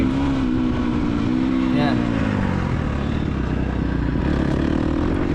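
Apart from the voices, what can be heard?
off-road motorcycle riding and braking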